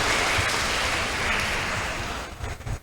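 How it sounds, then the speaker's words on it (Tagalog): A church congregation at Mass claps together in a loud, dense burst that thins into a few scattered claps before fading out. "pumalakpak nga po tayo sa Diyos"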